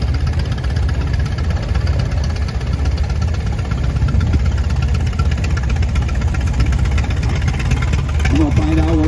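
A Twin City antique tractor engine runs steadily at an outdoor antique tractor and steam engine show parade, its low, continuous rumble loud and close throughout, with a rising tonal whine near the end.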